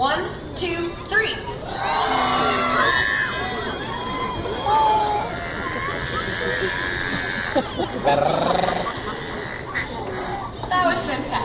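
An audience imitates beluga whale calls all at once, a crowd of voices making warbling squeals, whoops and chirps. The noise stays dense and overlapping for several seconds before trailing off into scattered voices.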